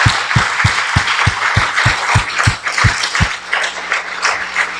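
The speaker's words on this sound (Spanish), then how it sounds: "Dale un aplauso al Señor" Loud congregation applause inside a church, a thick wash of clapping joined by a steady low thumping beat for several seconds that then drops away while the clapping carries on.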